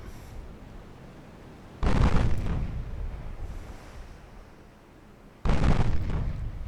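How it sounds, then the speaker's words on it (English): Naval guns in a war strategy game firing two heavy salvos a few seconds apart, each a loud booming blast that rolls away into a low rumble over a quiet background. "Opening fire."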